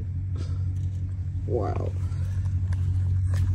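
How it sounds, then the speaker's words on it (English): A school bus sits idling at the curb as it arrives to collect a child at home, its steady low engine rumble running throughout, while people talk briefly nearby. "The bus is here."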